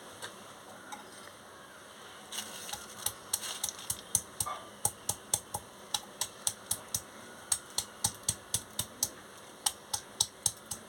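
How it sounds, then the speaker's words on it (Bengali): Spices are ground into paste by hand, giving a run of sharp, evenly spaced knocking strokes that repeat close and clear over a quiet background. "এইভাবে বেটে নিচ্ছি"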